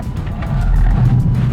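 A Lexus UX300e electric SUV is thrown hard into a corner, producing a loud, continuous low rumble of tire and road noise with a strained squealing edge, close and without talk.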